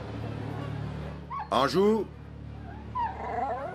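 Dogs whimpering and yipping in a Polish village in 1939, with a sharp burst of high, strained yelps in the middle and fainter whines later, over a low background rumble while someone shouts a word.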